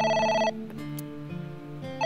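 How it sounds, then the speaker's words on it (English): Telephone ringing in the video game AI: The Somnium Files, a bright electronic trill that rings, pauses with soft game tones underneath, then starts again. "Phone's ringing."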